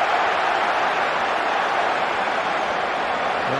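Arsenal football crowd at a stadium match against Manchester City, a steady, dense roar of cheering filling the whole stretch without breaks, broad and sustained.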